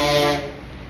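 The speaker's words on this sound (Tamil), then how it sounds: "horn sound" A sustained, loud vehicle horn blares with a steady harmonic tone, fading slightly toward the end.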